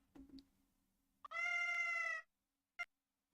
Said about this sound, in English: I don't recognize this cat.